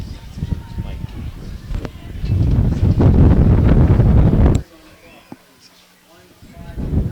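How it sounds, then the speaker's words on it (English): Loud, rumbling gusts of wind buffet the microphone in waves at an outdoor high school football game, briefly dropping away before blowing hard again, with voices talking underneath. "Getting windy down there in the field."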